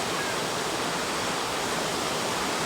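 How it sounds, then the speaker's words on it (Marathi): Water rushes continuously in a stream cascading like a small waterfall near a temple, a loud, dense, unbroken roar close at hand with no voices over it. "एका ठिकाणी धबधब्यासारखं झालेलं आहे."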